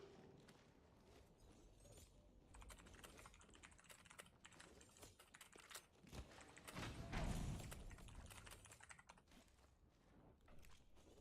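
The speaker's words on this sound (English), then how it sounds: "You can hear Brad typing in the background" Typing on a computer keyboard in the background during a watch party, a steady, rapid patter of key clicks with a few heavier thumps, faint and continuous.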